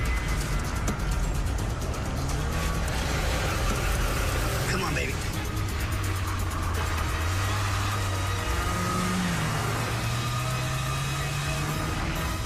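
A car doing donuts: the engine revs up and down in repeated surges as it circles, with the pitch rising and falling, loud and close throughout.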